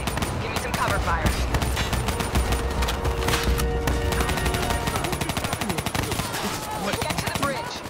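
Dense automatic and rapid gunfire from a Call of Duty Black Ops 3 firefight, loud and continuous throughout with sharp bursts and booms, with voices talking over the shooting.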